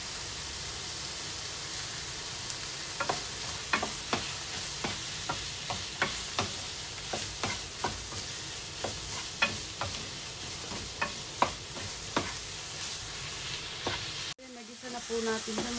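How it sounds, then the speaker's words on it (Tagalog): A spoon stirs a sautéed mixture into a pot of lugaw rice porridge, giving steady close scraping strokes roughly every half second over a constant bubbling simmer, ending in a brief knock and a muffled shift near the end. "Ihalo na natin itong ating mga ginisa."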